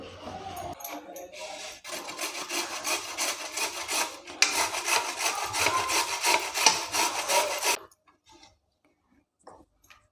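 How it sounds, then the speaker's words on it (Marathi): Fresh carrots are grated by hand, giving rapid, rhythmic rasping strokes that run steadily for several seconds, pause briefly, resume, then stop, leaving near silence. "आता आपण हे किसून घेऊया"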